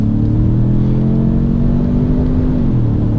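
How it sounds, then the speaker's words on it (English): Steady V6 induction drone heard from inside a 2017 Ford Edge Sport SUV, a low harmonic hum that holds level and then drops slightly in pitch near the end. "most of the sound that you hear from inside the vehicle is induction noise"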